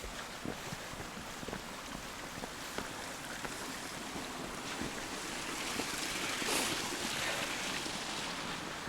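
A creek flows steadily with a continuous broadband rush of moving water, slightly louder in the second half, with some gusty wind noise mixed in and no voices.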